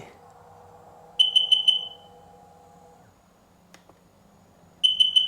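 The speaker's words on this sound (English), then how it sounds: "And scanning and beep, beep." A diagnostic scanner hooked to a Sea-Doo 787 personal watercraft with a MAP sensor fault gives two bursts of four rapid, shrill beeps, separated by a steady low electronic hum, close and clear.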